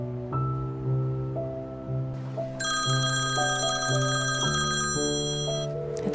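A telephone rings on and on without being answered, a repeated electronic ringtone pattern heard alone and fairly close.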